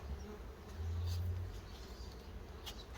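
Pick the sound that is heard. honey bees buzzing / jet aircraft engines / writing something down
honey bees buzzing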